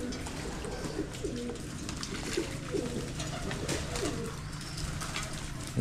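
Several pigeons coo in repeated low, soft phrases beside their bathing tub, a steady murmuring chorus over faint background noise, with no talking.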